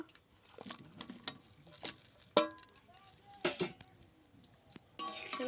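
A spoon stirs fried mustard paste and a bowl of water with elephant foot yam for a sour hilsa dish, giving irregular metallic clinks, scrapes and wet pattering close by.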